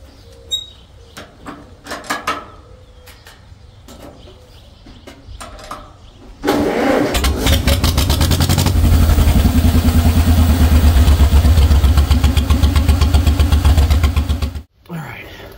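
A 1949 John Deere tractor engine is started: scattered clanks and cranking, then the engine catches and runs loud and close with a rapid, regular chugging pulse for several seconds before cutting off abruptly.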